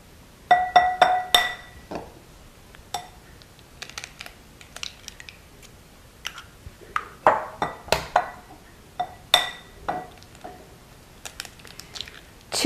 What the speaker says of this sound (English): in my other bowl here I have 3 eggs. And I'm going to crack them open and then slightly beaten them